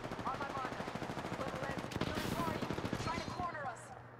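Rapid gunfire from a sniper firing in the video game Apex Legends, dense bursts of shots crackling steadily throughout amid other combat noise, with players talking over it.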